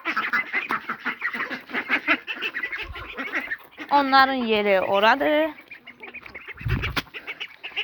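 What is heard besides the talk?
ducks quacking at morning feeding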